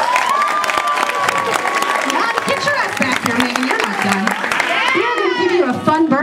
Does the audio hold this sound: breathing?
no